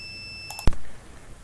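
A buzzer module wired to a push switch in an IoT GPIO test gives a steady electronic beep that stops abruptly with a sharp click, close and clear, with no talking.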